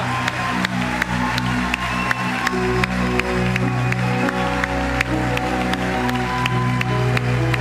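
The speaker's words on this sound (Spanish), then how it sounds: "Dale un fuerte aplauso a nuestro Señor Jesús en esta mañana." A church congregation at a Spanish-language Sunday morning service claps in a steady, even rhythm, with many hands beating together over music.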